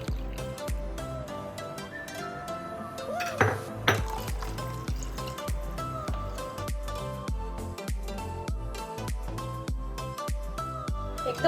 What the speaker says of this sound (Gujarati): સરસ આ રીતે આપણે મિક્સ કરી લઈશું